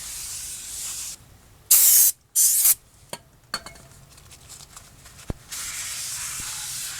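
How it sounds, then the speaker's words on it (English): Brake cleaner sprays in short, sharp hissing bursts onto a rusty front brake rotor of a 2014 Hyundai Accent, with quieter rubbing and clicks between the blasts and a longer spray near the end. "you want to hit that with some brake cleaner and just get all that stuff off of there"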